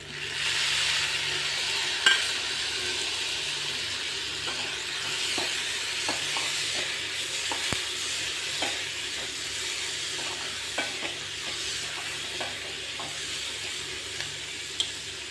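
Tomato and onion sauté in a pan for a radish chutney, a steady broad sizzle with scattered clicks and taps from stirring throughout, close and moderately loud, no voices.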